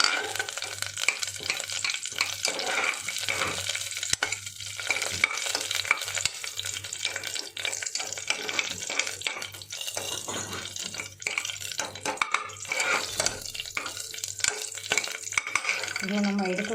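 Two green chillies go into hot oil in a pan for tempering tomato rice, giving a steady close sizzle with stirring scrapes, while running water is heard in the background.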